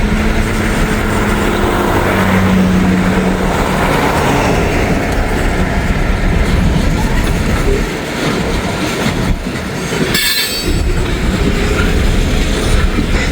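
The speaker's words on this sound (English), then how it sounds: "I hear a train." An empty coal train rolls past steadily with a continuous rumble and rattling wheels, loud and close, with a brief sharp squeal near the end.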